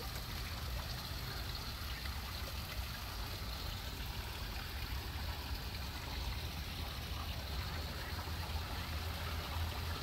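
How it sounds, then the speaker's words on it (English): Running water in a park flows steadily for the whole stretch, a constant broadband rush with no breaks and no voices. "area where the water is running"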